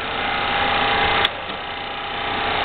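A Rong Fu 12-inch cold saw runs at its first speed, a steady mechanical motor whir with a faint tonal hum, a brief click midway, then continuing evenly.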